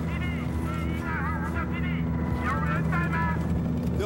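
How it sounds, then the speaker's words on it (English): Helicopters in the video game Battlefield 4 at the Kunlun Mountains, a steady rotor drone droning beneath the action while voices talk over it throughout. "Listen, Helos. Oh, that's our way out."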